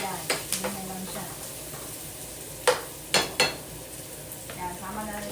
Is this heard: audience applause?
no